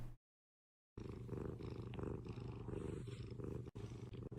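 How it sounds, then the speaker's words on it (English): A content cat purring steadily at close range, a low rhythmic rumbling pulse that starts after a brief silence and continues without talk. "she's purring"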